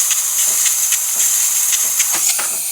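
A DeLonghi espresso machine's thermoblock vents steam at full temperature, a loud continuous close hiss with faint rhythmic pulses ticking through it.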